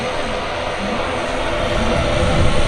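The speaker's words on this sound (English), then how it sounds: "That's a Ryanair." A Ryanair airliner at Manchester Airport roars past with a broad, steady engine rumble that swells slightly toward the end, loud and close.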